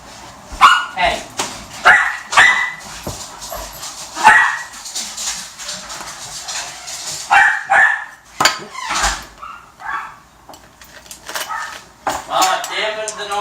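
A dog barks repeatedly in sharp, loud bursts, some whimpering yips mixed in, with a person talking over and between the barks.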